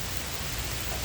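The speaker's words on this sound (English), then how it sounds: "it's pouring rain" Pouring rain in a short burst of steady, dense hiss and patter, even and fairly loud with no voices.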